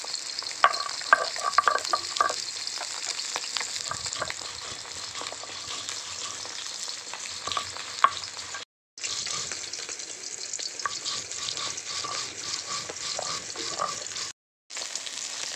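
Katla fish pieces fry in a pan, a steady hissing sizzle with scattered crackles and occasional scrapes, broken by two short silent gaps.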